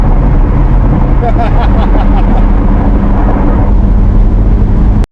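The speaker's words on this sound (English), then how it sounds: "the car sounds good" A 2024 Chevrolet Corvette Z06 C8 roars steadily from inside the cabin, loud and unbroken for about five seconds, then cuts off sharply at the end.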